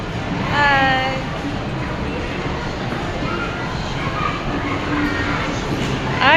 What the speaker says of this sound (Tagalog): Ay, may train guys